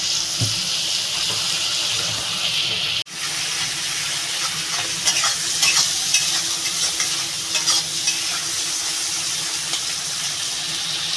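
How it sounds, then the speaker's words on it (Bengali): Fish frying to a reddish brown in oil in a kadai, a continuous close sizzle with occasional stirring clicks and a brief cut partway through, with faint water noise in the background and nobody talking. "মাছটা একটু লাল করে ভেজে নেব"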